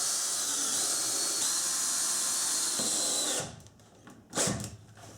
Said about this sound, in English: Now I'll just attach it with some screws down both sides and along the bottom.